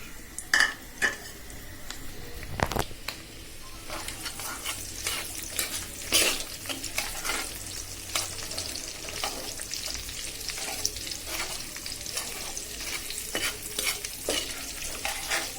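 Onion, garlic and dried chilli fry in oil in a wok for a tempering, with a constant sizzle under frequent spatula scrapes and metallic clanks close by.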